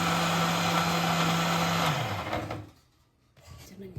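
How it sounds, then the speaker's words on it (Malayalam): A blender whirs loudly and steadily as it blends fruit for a milkshake made with vanilla ice cream, then the motor winds down and stops, leaving near silence and a few faint knocks. "ആ ഫ്രൂട്ട്സ് കൂടി ഒന്ന് കറക്കെടുക്കാം"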